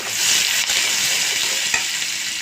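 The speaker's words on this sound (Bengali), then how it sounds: "তো আমার তেলটা গরম হয়েছে, এখন আমি বড় একটা সাইজের পেঁয়াজ কুচি দিয়ে দিব।" Chopped onion frying in hot oil in a Bengali kitchen, a steady loud sizzle and hiss throughout with a couple of brief stirring clicks, no voices.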